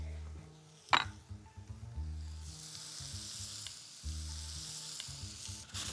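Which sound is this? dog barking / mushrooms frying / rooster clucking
mushrooms frying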